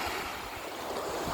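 Ocean waves washing onto the shore at Anda Beach in Bohol make a steady, broad roar of surf with wind noise across the microphone, continuous and fairly close, with no voices.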